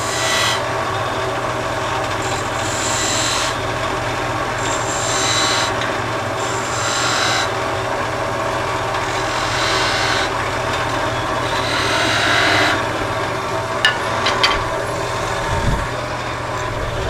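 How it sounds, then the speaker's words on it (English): Steel burn wire held against a turned wooden lighthouse Christmas ornament spinning on a lathe, a steady close friction rasp and whirr running continuously with brief scratchy swells, no talking. "use a burn wire to sharpen up the edge of the bands"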